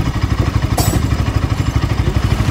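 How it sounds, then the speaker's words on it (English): A Bajaj Pulsar RS200 motorcycle engine idles close by with a steady, low, throbbing rhythm and no voices. "now I'm going to run the bike on idle"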